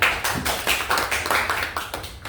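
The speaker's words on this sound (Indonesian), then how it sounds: "Mari kita berikan tepuk tangan yang meriah" A small audience at a school dissemination event claps after a presentation, a close, loud, rhythmic run of hand claps in even beats that keeps going to the end.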